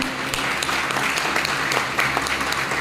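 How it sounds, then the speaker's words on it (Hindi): Audience applause at a business meeting, a steady patter of clapping from a crowd filling the whole stretch at moderate loudness, with a low hum underneath. "जोरदार ताली होनी चाहिए"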